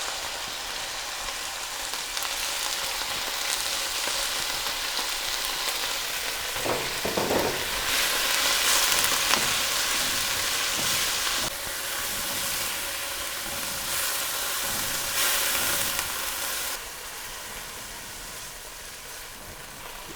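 Chicken pieces frying in a pan with garlic browned to light golden, a steady close sizzle and crackle with occasional stirring scrapes, no talk.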